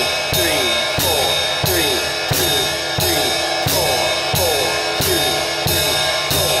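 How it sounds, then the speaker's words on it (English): Steady jazz time on a drum kit, with quarter notes on the ride cymbal backed by bass drum and hi-hat, the shimmering strokes landing at an even pulse, close and prominent throughout. "practice playing quarter notes on the ride cymbal"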